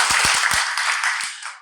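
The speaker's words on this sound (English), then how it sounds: "Clap if you know her." A studio audience on a talk show clapping, a short burst of applause that starts sharply and then fades out.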